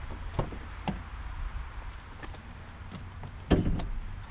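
The hood of a 2024 Ford Mustang GT Performance Pack with a 5-liter V8 is opened: a few light mechanical clicks of the latch and prop, then one sharper, louder thunk near the end, heard up close with no talking.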